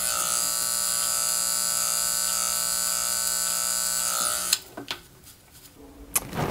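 Electric hair clippers cutting a back taper during a self haircut, a steady close motor buzz that runs continuously, then cuts off and gives way to brief handling clicks and rustles.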